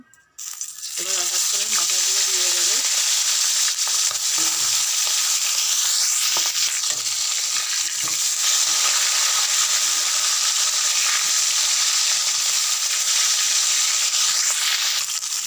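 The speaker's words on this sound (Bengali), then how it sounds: "মাছের মাথাগুলো ভেজে নেবো তার জন্য গ্যাসে একটা কড়াই বসিয়ে তাতে তেল দিয়েছি" Fish heads dropped into hot oil in a wok on a gas stove, a brief clatter at the start and then a loud, steady sizzle with occasional stirring scrapes that continues throughout.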